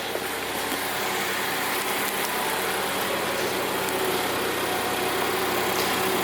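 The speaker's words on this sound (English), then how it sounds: "Probably hearing the induction. I've got an ITG kit on it." Steady broadband engine idle from a car fitted with an ITG induction kit, a constant close hum with a raspy intake hiss and no voices over it.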